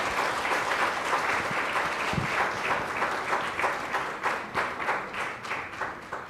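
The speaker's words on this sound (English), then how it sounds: "A huge round of applause for all the panelists" An audience at a CSR conference gives the panelists a sustained round of applause, with dense steady clapping from many hands filling the room and thinning toward the end, and no voices heard.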